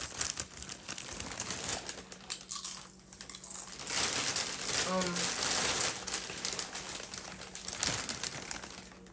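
A plastic egg roll wrapper package crinkles and crackles close by in a kitchen, in irregular bursts over several seconds.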